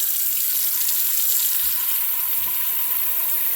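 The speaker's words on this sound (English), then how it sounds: "get the pot of water going. I'm going to fill it up 3/4 of the way full" Tap water pours steadily into a cooking pot being filled three-quarters full in a home kitchen, a loud, close, continuous hiss of running water with no talk.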